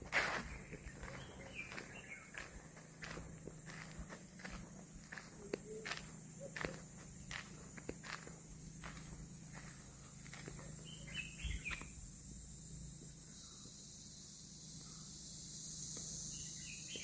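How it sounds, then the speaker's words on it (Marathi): Birds chirp faintly around a quiet hilltop temple on a trek to the Bhivsula caves, with insects buzzing and occasional footstep crunches close by. "पक्ष्यांचा किलबिलाट ऐकू येतोय."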